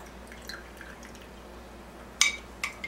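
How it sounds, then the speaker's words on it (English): Water drains from the hoses of a Kangen water machine into a sink, with a few sharp drips and splashes landing over a faint steady trickle, close and quiet. "let these hoses drain back into the sink for about 5 minutes"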